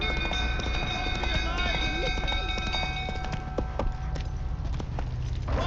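Roach, a horse in the video game The Witcher 3, trots with rapid, steady hoofbeats under a sustained tonal drone, with a brief grunt-like voice partway through.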